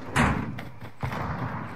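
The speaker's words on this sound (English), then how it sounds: "Did you just close that door?" A door swings shut in the Warzone game with a sharp, close thud, followed by a softer second knock and faint rustling.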